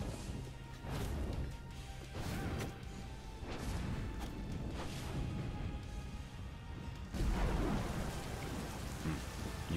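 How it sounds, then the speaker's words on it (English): Rain in the video game Smite, a steady hiss of rainfall with scattered heavier splashes and rumbling crashes like thunder, moderately quiet and without speech. "You can hear those rains."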